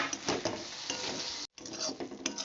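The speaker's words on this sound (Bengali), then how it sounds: "এই মশলাটাকে খুব ভালো করে কষাবো" Spice paste (masala) stir-fried in a pan on a medium flame, continuous close sizzling with scraping and stirring strokes, a brief silent break midway, no voices.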